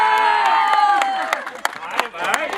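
Crowd at a haldi wedding ceremony cheering, whooping and clapping in a lively burst, with scattered sharp claps and shouts, close and fairly loud throughout.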